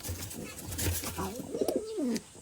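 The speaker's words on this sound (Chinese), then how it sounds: "鸽子又进来了" A pigeon that has wandered inside gives a close, soft rolling coo with a rising and falling pitch, following some rustling movement nearby.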